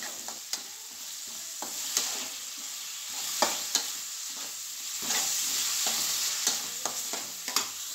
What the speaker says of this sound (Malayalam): ഒരു ബ്രൗൺ കളർ ആവുന്നത് വരെ ഈ സവാള വഴറ്റിയെടുക്കണം.